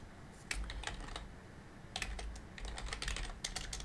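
Keys on a computer keyboard clatter in quick, irregular bursts as an address is typed, close and fairly quiet, with short pauses between runs of keystrokes.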